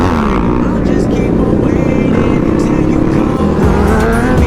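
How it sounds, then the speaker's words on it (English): A large group of around fifty motorcycles rolls out of a parking lot together with police present, a loud, continuous, dense engine roar with shifting revs throughout. "we got probably about 50 bikes rolling deep here"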